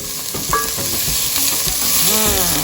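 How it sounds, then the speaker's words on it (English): Onions and peppers with seasoning sizzle loudly in a pot while being stirred, a steady close frying hiss broken by soft scraping and clinks of the utensil. "So I'll move that around in the pot."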